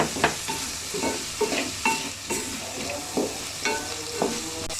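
Coconut powder is sautéed in a pan: a crackling sizzle is punctuated by rhythmic stirring strokes roughly every half second, close and fairly loud, with no voices.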